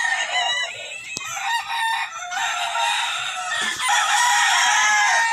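A rooster crows loudly and close by, one long drawn-out call with clucking from other fowl around it, on a farm with chickens.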